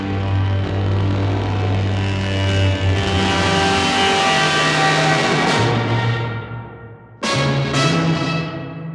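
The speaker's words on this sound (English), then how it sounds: "fade in on a long brass note that will sound something like" A soloed synthesized brass layer swells on a long sustained note, rich and full, dipping briefly before returning and fading, with no voices.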